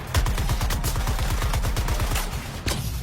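Rapid automatic gunfire from Suicide Squad: Kill the Justice League, a steady stream of close, loud shots in a fast rhythm lasting the whole stretch, with a brief heavier burst near the end and no talk.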